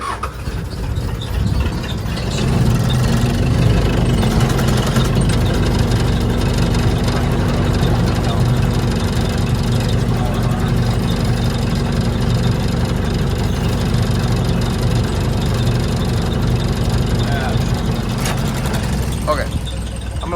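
A cold tractor engine idles while warming up, a steady, low mechanical rumble that holds evenly for about twenty seconds, with faint voices in the background.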